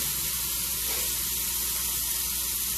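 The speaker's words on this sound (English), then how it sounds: "And then I'm going to deglaze this pan." Beef broth poured into a hot, crusty pan to deglaze it, giving a loud, steady sizzling hiss that fills the whole moment, close up and continuous, with no talking.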